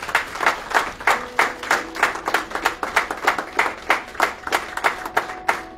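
Church congregation clapping in steady rhythmic unison at a worship service, loud and close, with sharp regular claps, faint singing tones and a few voices beneath.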